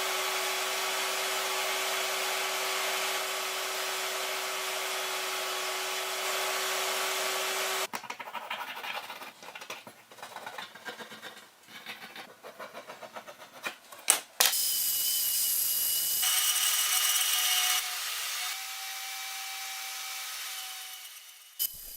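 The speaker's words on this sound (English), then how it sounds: "Takes a little patience cutting stuff out on the portaband." A portable band saw cuts a quarter-inch plywood knife template, with a faint, even whine in long runs broken by a stretch of scattered clicks and handling noise before the blade hum returns.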